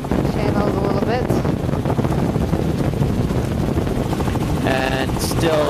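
Helicopter in flight over a coastal inlet shoreline, a steady loud rotor and wind roar filling the whole stretch, with a person talking over it throughout.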